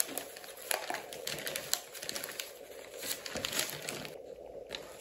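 Wrapping paper is crumpled and handled close by during an advent calendar craft, giving a steady run of crisp crinkles and rustles with sharper crackling peaks throughout.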